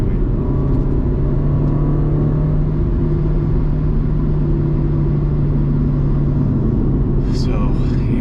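A modified Honda Civic engine drones steadily while driving, a loud, continuous low rumble with an even cabin-like hum and no sharp revs standing out.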